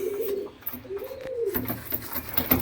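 A pigeon coos in soft, low, rolling calls, a few phrases close by against a quiet indoor background.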